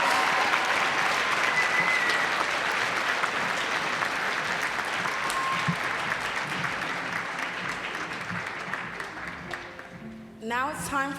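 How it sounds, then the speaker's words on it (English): Sustained audience applause at a university apparel design fashion show, loud and dense at first, then gradually thinning and fading toward the end as a few voices break through. "Let's give them one last round of applause."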